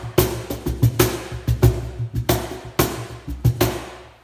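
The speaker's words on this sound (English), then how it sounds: "It's called a cajon" A Peruvian cajon box drum is slapped by hand in a steady groove, with deep bass thumps alternating with sharp snappy slaps, close and loud with no talking.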